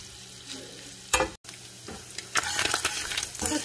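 Sausage sizzles in a hot pan, a constant crackling hiss up close, broken by scraping stirs and a louder spattering burst, with no one speaking.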